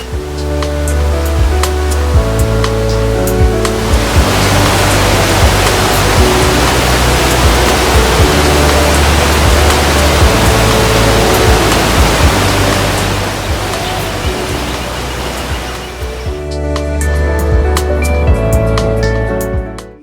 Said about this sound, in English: the waterfall just appeared out of the jungle and cascaded down the cliff